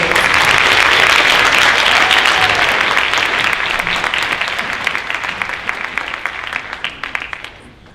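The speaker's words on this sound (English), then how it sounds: "Let's give these students and their teachers of distinction another round of applause, please." Audience at a high school senior honors night applauding, dense clapping that starts full and gradually thins into scattered claps before fading out.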